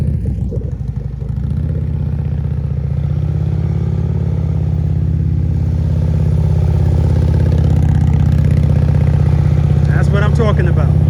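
A Harley-Davidson CVO motorcycle engine runs low and steady during slow-speed riding practice, a constant near rumble that builds slightly over time, with faint voices at the end.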